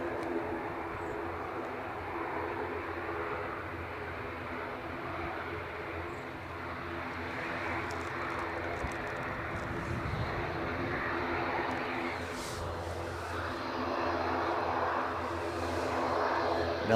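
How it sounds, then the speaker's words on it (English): An ATR turboprop at Edinburgh Airport runs its engines, a faint, steady droning hum with tonal whine that builds slightly toward the end, heard from a distance on a windy day. "I found the ATR anyway that is singing away."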